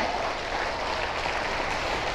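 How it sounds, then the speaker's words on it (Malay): A hall audience at an Elken marketing event applauds, producing a steady, even hiss of many hands clapping that sounds distant and faint, with no voices above it. "Tepukan untuk Elken."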